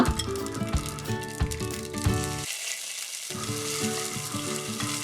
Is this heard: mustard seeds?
yes